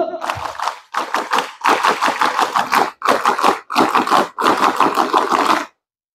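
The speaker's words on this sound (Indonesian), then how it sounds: "Dua kali tepuk Pramuka." Indoor gathering of scouts at a training course opening performs the Pramuka clap, six crisp bursts of rhythmic group clapping in quick patterned beats, separated by short pauses, loud and close.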